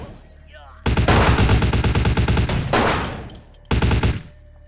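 Automatic gunfire in the video game Vampire: The Masquerade – Bloodlines 2, loud rapid bursts of shots: a long burst of about two seconds, a trailing blast, then a shorter burst.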